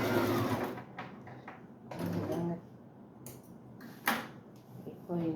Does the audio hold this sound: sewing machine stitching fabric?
yes